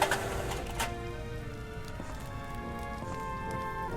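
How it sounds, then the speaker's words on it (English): Rain patters steadily in the Wallace and Gromit's Grand Adventures video game, a continuous soft wash with sustained musical tones over it and a couple of brief sharp taps near the start. "Rain stops play."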